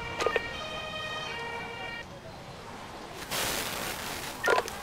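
An ambulance siren in the Emergency 5 video game wails with a steady tonal pattern over background noise, followed by a burst of rushing sound and a few sharp clicks.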